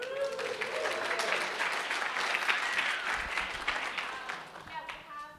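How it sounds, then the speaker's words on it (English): An audience at a hacker community conference claps steadily for an attendee, a continuous patter of applause with voices talking over it. "Clap for her."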